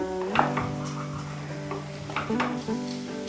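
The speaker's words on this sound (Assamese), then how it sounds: "ইয়াতে মই দি দিলোঁ ভাজি থোৱা ফুলকবি আৰু মটৰখিনি আৰু এইখিনি মই মছলাৰ লগত ফ্ৰাই কৰি থাকিম" Fried cauliflower and peas cook with spices in a pan, a soft sizzle under repeated metallic scrapes and clanks of a spatula stirring close by.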